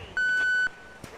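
A single steady electronic beep lasting about half a second, clear and close, at Manila's NAIA airport during plane spotting with live air traffic control, followed by faint background noise.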